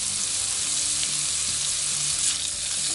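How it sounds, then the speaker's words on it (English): Bacon fries in olive oil in a pot, giving a steady, dense sizzle with popping crackles and occasional stirring scrapes, close and continuous without any talk. "Don't let the bacon stick to the pot. I like to move it around a little bit."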